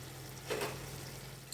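Tomatoes sauté in a pan for tomato pachadi, a faint, steady sizzle heard up close with a brief stir partway through, and no talking.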